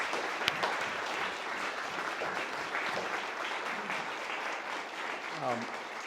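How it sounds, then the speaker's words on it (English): Sustained audience applause at a panel's close for an alumni program on history, steady and broadband throughout, with a brief voice or two near the end. "please join me in giving our panelists a round of applause"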